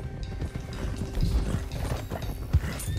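Horse hooves clop during Red Dead Redemption 2 gameplay as horses are driven toward Clemens Cove, irregular thuds with creaking tack and mechanical rattles, one sharp hoof strike near the end, no talk.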